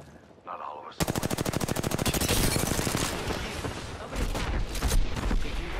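Rapid automatic gunfire in the video game Apex Legends, a dense burst of evenly spaced shots that breaks into a heavier, ragged volley of overlapping fire, loud and close.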